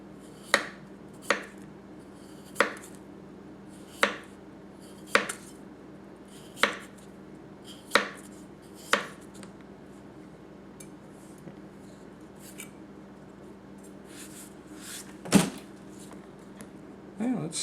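A Tanaka Kurouchi 210mm gyuto knife works through a potato on a cutting board, making sharp, crisp taps at a steady pace about every second or so, then a few scattered softer knocks and one louder clack near the end.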